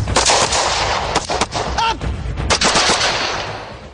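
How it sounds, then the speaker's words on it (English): Gunshots during pistol training, a rapid string of loud sharp cracks fired close by in quick succession, with echoing tails and no talk. "But you must pause before firing off that shot."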